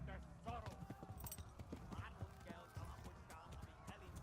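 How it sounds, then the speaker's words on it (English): A horse canters in the medieval video game Kingdom Come: Deliverance, rhythmic hoofbeats thudding in steady triplet groups, fairly close and quiet, with a voice talking over them and brief game sounds mixed in. "Alright, so right now I'm just cantering."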